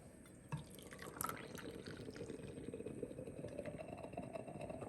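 Coffee from a Bialetti moka pot, brewed on an induction stove, is poured into a cup with a soft, quiet trickle and a few drips over a low background hum.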